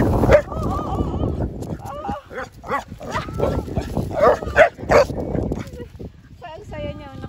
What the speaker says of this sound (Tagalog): Ayan yung aso po namin.